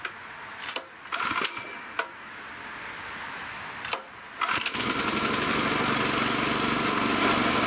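A petrol-powered air compressor engine kicks into a loud, steady drone after a few sharp knocks and clatters, running on continuously as it builds pressure.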